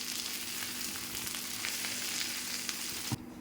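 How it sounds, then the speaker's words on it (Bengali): Pointed gourd (potol) pieces frying in hot oil for a Bengali vegetarian potato-potol curry, a steady close sizzle with a brief stir or clatter near the end and no voices. "পটলগুলো ভাজা হয়ে গেছে, দেখো লাল লাল করে ভেজে নিয়েছি।"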